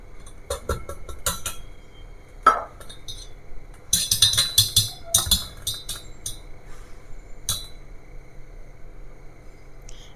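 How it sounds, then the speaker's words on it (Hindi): Gram flour (besan) shaken through a metal sieve in a home kitchen, heard as bursts of light metallic clinks and rattling taps with quiet gaps between them, close by. "तो बेसन इसी में डालकर छान लेते हैं।"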